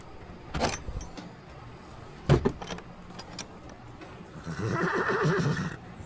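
Horses neigh and whinny at a stable in a radio drama, with two sharp calls early on and a longer, louder whinny near the end, all heard without talk.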